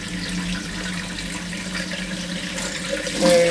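Tap water runs steadily into a kitchen sink or vessel while measuring water for cooking, a continuous mid-level wash of flow that swells slightly louder near the end.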